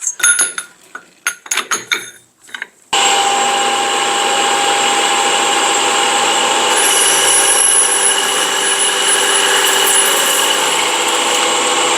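A power saw cuts through a metal extension pipe for a parasol pole, giving a loud, continuous, high-pitched grinding whine for about nine seconds after a few sharp clanks of handling.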